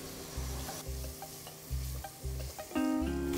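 Chopped garlic dropped into hot oil with a bay leaf sizzles steadily and loudly up close, broken by a few stirring clatters, with a faint steady hum underneath.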